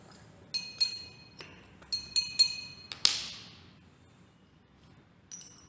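Glassware clinking during a lab staining procedure with a watch glass and concentrated HCl: a series of sharp, bright taps and clinks in short bursts, one louder ringing strike near the middle, then a faint clink at the end.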